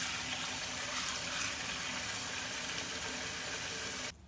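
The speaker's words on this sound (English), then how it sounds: "Okay, so my water comes out boiling." Very hot water runs steadily from a bathroom tap into a sink, a continuous hiss and splash close by, stopping abruptly at the end.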